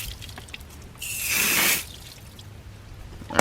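Water sprayed to rinse wheel cleaner off a car wheel, a single hissing burst of about a second amid quiet dripping and faint background noise.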